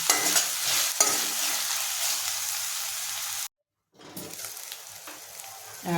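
Onions and prawns sizzle and get stirred in a hot pan for a prawn and okra pulusu. The steady frying crackle breaks off briefly into silence, then resumes with scraping stirs.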